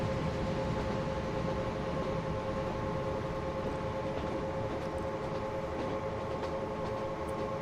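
A train in the Transport Fever video game climbs a large hill, giving a steady, continuous rumble of rolling wheels with a faint sustained hum and no pauses, heard alone without talk.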